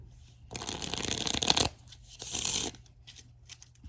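Tarot cards are shuffled in two quick bursts of crisp riffling and flapping, close up and fairly quiet, separated by a brief pause.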